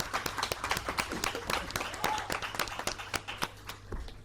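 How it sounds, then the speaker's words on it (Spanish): Scattered applause from an audience at a talk on access to justice for children with intellectual disabilities, sparse and fairly quiet individual claps over a low steady hum. "pido un aplauso para él y para todos los Gerard"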